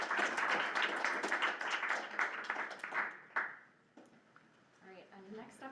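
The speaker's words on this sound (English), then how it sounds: "Another round of applause for Jeff, please." An audience at a research presentation session applauds, a dense burst of clapping that fades over about three seconds into scattered claps, then a voice begins speaking.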